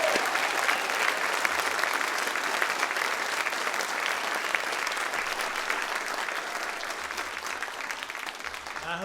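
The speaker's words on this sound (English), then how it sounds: "let's celebrate them one more time with a round of applause" Sustained, dense applause from a large audience at a college of pharmacy white coat ceremony, steady and loud throughout with no voices over it.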